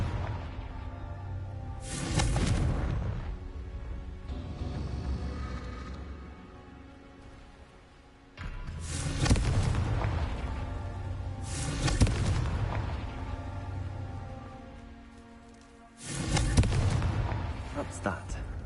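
Confringo blasting spells detonating in Hogwarts Legacy, heard as three loud, booming explosions spaced several seconds apart, each with a sharp crack that decays into a rumbling tail over steady game ambience.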